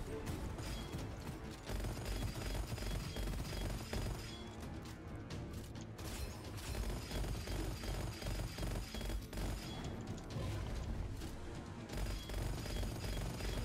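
Rapid gunfire from the first-person shooter Gunfire Reborn, dense and continuous bursts of shots layered with game effects and crashes, loud throughout the whole stretch.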